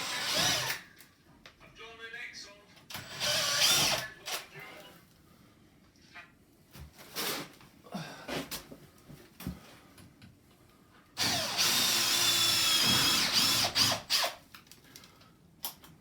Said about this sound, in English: We'll drill through it.